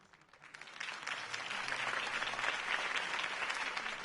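A video game crowd applauds steadily, the clapping swelling after a quiet start and holding as a dense, continuous wash of many hands.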